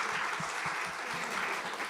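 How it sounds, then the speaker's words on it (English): Applause from the audience at a Girls in Gaming Summit, a continuous, moderately loud patter of many hands clapping for about two seconds. "Can I get a round of applause for everyone?"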